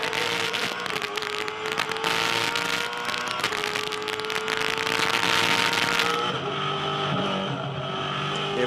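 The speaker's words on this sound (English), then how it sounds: "So we're on board here with James Moffat. Let's do a lap of Queensland Raceway." Supercars race around Queensland Raceway during the 2011 Ipswich 300, a loud onboard roar of a V8 race engine held at high revs, with a gear change and drop in pitch near the end.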